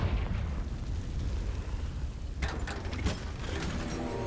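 A Confringo blasting spell from Hogwarts Legacy erupts in a loud, rumbling explosive boom with crackling bursts, followed by sharper magical impacts and mechanical clatter near the end.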